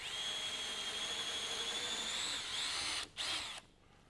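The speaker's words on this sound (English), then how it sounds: "You're going to want to drill with a 1/4" drill bit right back down through there" Power drill running continuously with a 1/4 inch bit, boring a hole during an Archangel M1A rifle stock installation; a steady high whine held close up, briefly dipping near the end before stopping abruptly.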